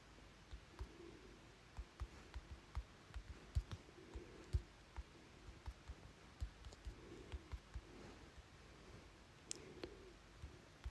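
Faint clicking keystrokes on a computer keyboard as a login and password are typed, light irregular taps spread steadily over a quiet room background with no talking.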